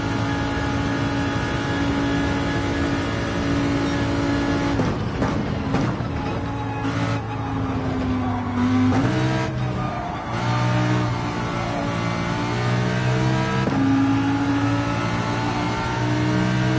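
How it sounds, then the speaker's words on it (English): Race car engine held at full throttle in Gran Turismo 7, loud sustained whine with brief dips at gear shifts before climbing again. "full throttle through that section is the way to get it done."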